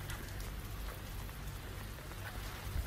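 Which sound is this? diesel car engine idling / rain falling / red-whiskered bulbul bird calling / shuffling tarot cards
rain falling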